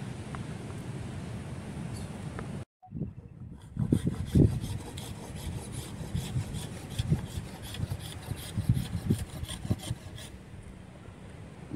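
An Enzo Elver knife is stroked against a piece of wood used for sharpening, giving repeated rasping rubs in an uneven rhythm, close and moderately loud, after a brief silent gap.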